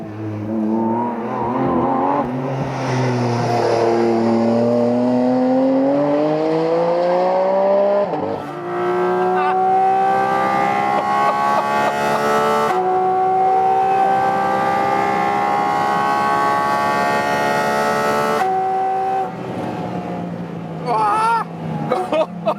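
A Porsche 718 Cayman GT4 RS accelerates hard toward 250 km/h, its engine rising through gears with loud climbing whines and shift breaks, heard up close with a voice speaking over parts of it.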